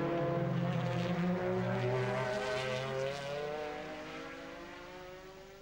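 Heard from onboard, the engine of a JMB Ferrari 360 Modena race car screams at high revs during an FIA GT race at Jarama, a harmonic howl that slides down in pitch as the car lifts off.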